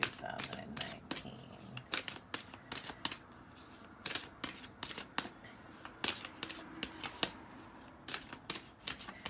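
Tarot cards are shuffled up close, with rapid repeated riffling and slapping bursts in an uneven rhythm that runs throughout. Faint speech can be heard in places.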